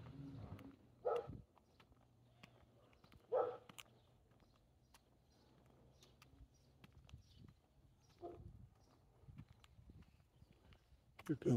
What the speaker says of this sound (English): Here comes a dog down the street.